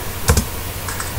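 A few quick clacks from a computer keyboard sound as a chat message is typed. The short taps are close and fairly faint over a steady background hum.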